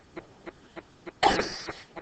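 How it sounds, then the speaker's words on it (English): A woman coughs in a harsh burst of several coughs, preceded by a few faint, evenly spaced soft coughs or throat sounds in a quiet room. "Goodness, I got the coughs again."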